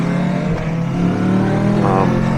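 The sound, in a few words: Kawasaki Versys 650 motorcycle engine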